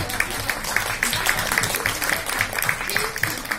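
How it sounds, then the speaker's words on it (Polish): An audience applauds with a steady, rhythmic clapping, fairly close and lively, continuing throughout with a hint of voices mixed in. "Brawa jeszcze raz."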